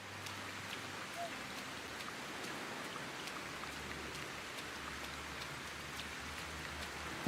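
Rain falls steadily in the Sengoku Dynasty open-world survival game, a soft, even hiss of drops that continues unbroken throughout, quiet and alone with no voices.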